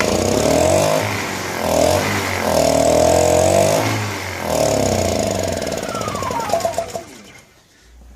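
A Honda EU1000i portable inverter generator running badly, its engine surging and sagging in uneven waves, then sputtering, stumbling and nearly dying toward the end, close and loud with no talk.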